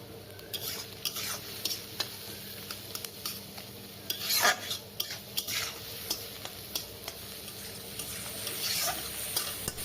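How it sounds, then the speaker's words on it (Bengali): Onion frying in a pan with a little salt and turmeric for amla bharta, a steady soft sizzle broken by repeated scraping and stirring strokes of a utensil against the pan, close and alone without talk. "আগে পেঁয়াজটা আমি ভেজে নিচ্ছি ভর্তাটার জন্য।"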